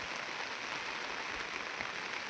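Heavy rain falling on paddy fields, a soft continuous hiss of rainfall at a distance, steady and even with no voices.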